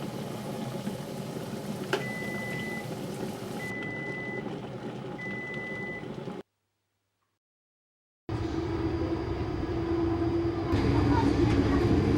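A train arriving at a platform rumbles steadily with a repeating warning beep, then a brief silence before louder rolling noise resumes.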